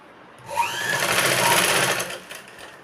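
A sewing machine runs a steady, close stitching burr for about two seconds as it sews the strip onto a plain tusk-style blouse. The whir starts abruptly and fades out, with no talk over it.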